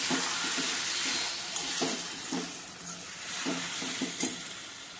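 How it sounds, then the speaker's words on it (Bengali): Rice stirred and fried in a pan for a Bengali fish-head rice dish, giving a steady sizzle with repeated scraping stir strokes, close and moderately loud, with no talk. "একটুখানি চালটাও দিয়ে একটু কষতে থাকবো"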